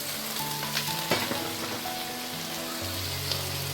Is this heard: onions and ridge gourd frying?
yes